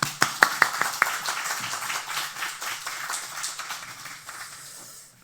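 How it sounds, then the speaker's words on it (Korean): A church congregation claps in welcome for a visiting missionary at a Sunday service, starting with a few loud, sharp claps, then swelling into brisk applause that gradually fades away. "환영의 박수로 환영을 하겠습니다"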